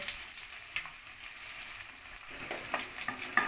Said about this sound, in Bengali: আলুগুলো ভাজা হয়ে গেছে লাল লাল করে